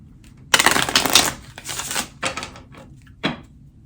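Oracle cards being shuffled by hand, a long riffling burst followed by a few shorter bursts of papery card slaps, close and fairly loud with no talk.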